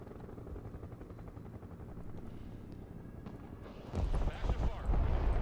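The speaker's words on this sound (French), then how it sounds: "Je vais prendre un hélico de transport, un petit hélico" Transport helicopter in the war game Broken Arrow, a continuous rotor chop and engine drone that swells louder and heavier near the end, with speech over it.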